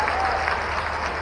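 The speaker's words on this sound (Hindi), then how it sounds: "पहली बार जोरदार ताली बजाओ बच्चों के लिए।" Brief burst of steady crowd clapping at a public gathering, applauding children, dense and continuous throughout.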